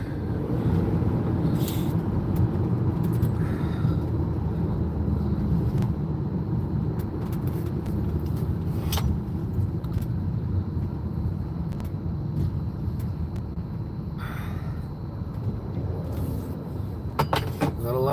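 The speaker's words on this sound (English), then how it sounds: "Gotta love traffic." Steady road traffic rumbles around a car driving through Burlington, a continuous loud engine and tyre drone with occasional faint knocks and rattles, no talk.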